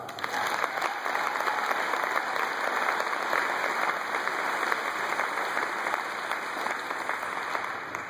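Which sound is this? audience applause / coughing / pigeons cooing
audience applause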